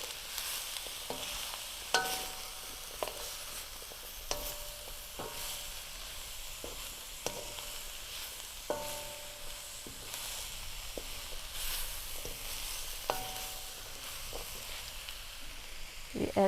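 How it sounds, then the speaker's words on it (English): Long beans stir-fried in a hot pan, a continuous sizzle broken by regular scraping clinks of a utensil stirring against the pan, close and steady with no talking. "You need to fry the long bean until it's soft and add other ingredients."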